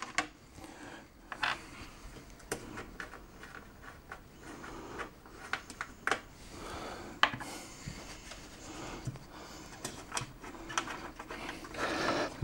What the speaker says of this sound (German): Ich muss jetzt erstmal hier oben die Schrauben lösen, um die Glasplatte abzunehmen.